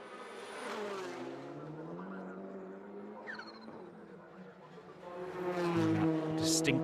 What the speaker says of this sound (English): Distinctive wastegate sound as he lifts off the throttle.